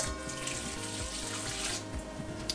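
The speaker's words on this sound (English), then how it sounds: "and then you're gonna add your boiling water on top of that" Boiling water pours steadily into a bowl of gelatin, a continuous close splashing and trickling stream with no talk.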